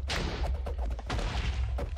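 Loot pinata explosion in the Minecraft modpack All The Mods 9, a rapid cluster of muffled popping bursts like a string of small firecrackers, dense and continuous for about two seconds.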